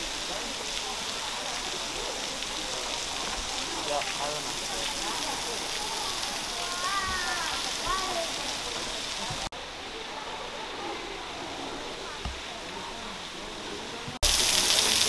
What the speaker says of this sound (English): Here's the back side of the waterfall.